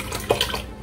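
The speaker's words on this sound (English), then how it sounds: "I'm gonna put these back in the water until I get ready to make them" Corn husks for chicken tamales are set back into their soaking water, giving a brief close splash and slosh with a small plop in the middle.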